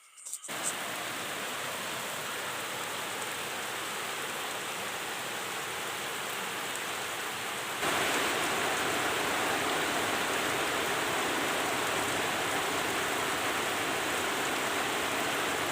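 Rain falls steadily on a rural homestead, a dense, even hiss that fills the whole stretch and grows slightly louder and heavier about halfway through, with no voices.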